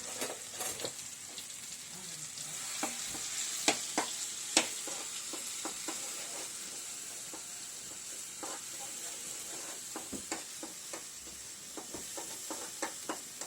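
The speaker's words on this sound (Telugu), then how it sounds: "కొంచెం ఆయిల్ వీటెక్కిన తర్వాత మనం ముందుగా ప్రిపేర్ చేసుకున్న అల్లం, వెల్లుల్లి, మిర్చి, ఉల్లిపాయ పేస్ట్ మొత్తం ఇందులో వేసుకోవాలి" A paste of ginger, garlic, chili and onion fries in hot oil, a soft, steady sizzle and hiss with scattered crackles and pops, with occasional stirring, fairly quiet throughout.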